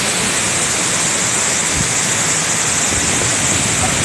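Tagbibinta Falls in Barangay Coronobe, Maragusan, Davao de Oro, heard as a loud, unbroken roar of falling water, a dense wash of rushing spray with no voices over it.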